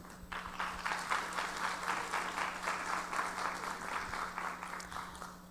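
An audience at a conference held by an indigenous justice chamber of a state superior court in Mexico claps warmly to welcome the moderator, a steady burst of many hands lasting several seconds and fading slightly at the end.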